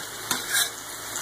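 About four tablespoons of butter melting in a pan on high heat, a brief close sizzle with a soft scrape of stirring partway through; no talking.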